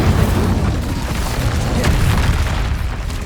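An Incendio fire spell in Hogwarts Legacy roars as a loud, sustained burst of fiery rumble and crackle. It holds steady and dense for a few seconds with no voice over it.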